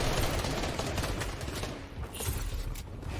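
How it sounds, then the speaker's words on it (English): Shotgun fire in a Fortnite match, including a charged shotgun blast, heard as a dense wash of gunfire and game noise with no clear individual shots standing out, loud and close throughout. "That charged shotgun shot just did so much work"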